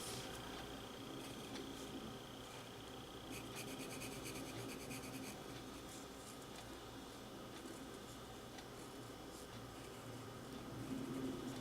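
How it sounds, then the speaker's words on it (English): Pencil tracing lines on paper, faint scratchy strokes and rubbing that continue quietly throughout, with a few brief bursts of quicker scratching. "I'm just going to trace the lines as a reference"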